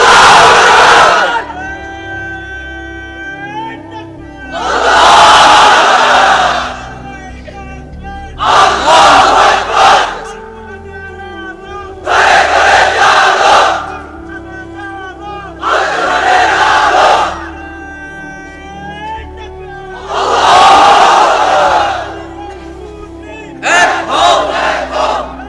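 A large crowd of unmarried men roars a takbir chant in repeated loud bursts, about six surges of massed shouting separated by brief pauses, with no single voice standing out.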